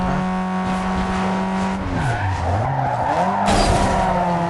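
Tires squeal and skid as a car slides in the racing video game Need for Speed Underground 2, loud and sustained with a pitch-bending engine drone underneath and a sharp burst of screech near the end.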